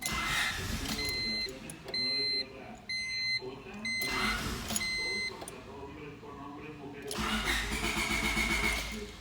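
The starter of a Honda Civic cranks repeatedly, but the engine never catches because a fuel pump kill switch is engaged. Electronic alarm beeps and chirps sound between the cranking bursts.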